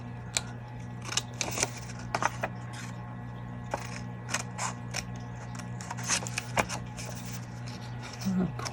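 Large scissors snip paper repeatedly at an irregular pace, crisp close clicks over a steady low hum, with some faint shuffling between cuts.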